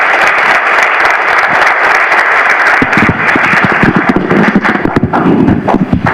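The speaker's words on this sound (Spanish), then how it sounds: "Démosles la bienvenida con un fuerte aplauso" Steady applause from a large audience at a conference fills the room, dense and continuous, thinning toward the end as a voice begins speaking over it.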